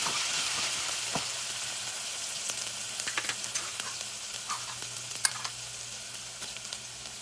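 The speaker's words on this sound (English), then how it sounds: "I'm going to start with my fresh green chili, ginger, garlic, and I'm going to saute it for about 30 seconds." Fresh green chili, ginger and garlic sauté in a pan for an Indo-Chinese vegetable Manchow soup, giving a steady soft sizzle with scattered light crackles and spatters, close and fairly quiet throughout.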